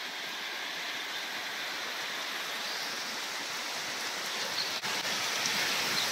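Heavy rain falls steadily and without pause, a dense, loud, even wash of water drumming on surfaces close by, with no voices.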